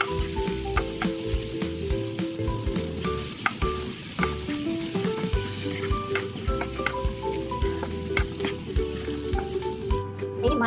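Boiled chickpeas stir-fried with masala in a pan for karam sundal: a steady, close sizzle runs throughout, broken by frequent stirring clinks and scrapes, with sustained tonal music playing underneath.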